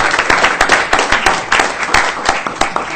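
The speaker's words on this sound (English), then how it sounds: "let's give this guy a round of applause." A room full of people gives a round of applause, a dense, loud burst of clapping with sharp individual claps standing out throughout.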